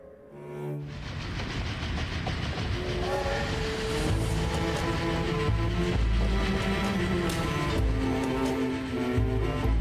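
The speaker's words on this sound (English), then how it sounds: "No, I fell asleep on the train." A moving train in the Dracula 3 video game rumbles on with steady rolling wheel clatter and a long sustained horn-like tone, loud and continuous, with no talk.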